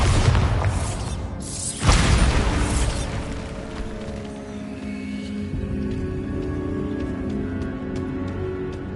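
A Bombarda spell in the video game Hogwarts Legacy blasts a barricaded archway with a single loud, deep explosion, followed by a lingering rumble and crumbling debris that fades into a steady background.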